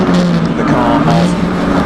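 Peugeot 205 GTi race car racing at Donington Park in a CSCC Tin Tops event: a loud, close, sustained engine drone with steady revs and a buzzy harmonic whine, under steady race commentary.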